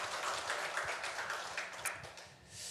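A church congregation at a Korean Sunday harvest thanksgiving service gives soft, distant applause, a faint continuous wash of many hands that tapers off toward the end.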